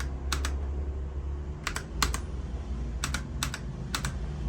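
A computer keyboard plugged into a Symtec 5-in-1 USB-C docking hub is typed on in short clusters of crisp, close keystrokes with brief pauses between bursts.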